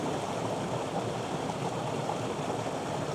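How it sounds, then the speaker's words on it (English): Rusty, iron-stained water from a disused mine runs steadily downstream in a small stream, a continuous even babbling rush with no pauses and no voices. "And the water is now running downstream."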